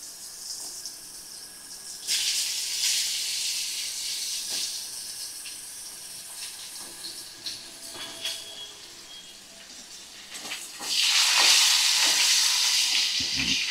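Thin-sliced carrots frying in a pan as they are stirred, with a continuous sizzle and hiss broken by scraping stir strokes that grow louder near the end.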